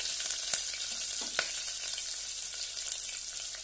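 Chopped onion sautéing in oil in a pan for rasam rice, a steady, fairly quiet hiss of frying with a few faint stirring taps and no voices.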